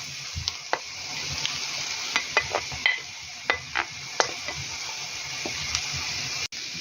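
Onion and carrot fry in a pan with a steady hiss, broken by sharp scraping clicks as the vegetables are stirred at close range.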